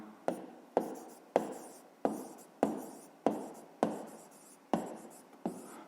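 A pen writes an answer on paper in a string of about nine quick, evenly spaced scratchy strokes, close and fairly soft, with no talking.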